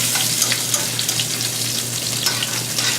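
Garlic and scallops frying in oil for a seafood fettuccine, a loud, dense, continuous sizzle with crackling spatters and a steady low hum underneath, with no speech.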